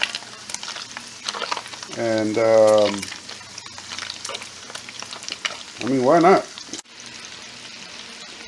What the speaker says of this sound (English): So I'm deep frying this bacon.